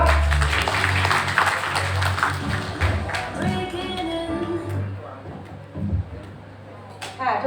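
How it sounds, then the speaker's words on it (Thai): An audience applauds the hosts at a staged corporate event. Thick clapping is strongest at first and then thins and fades, while a voice speaks over it. "ขอเสียงปรบมือครับ"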